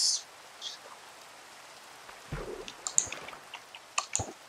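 Rain falling in Minecraft Java Edition, a faint steady patter with scattered soft drop clicks and a few louder taps near the end, heard alone without talk.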